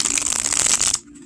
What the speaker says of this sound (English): I'm just going to shuffle great.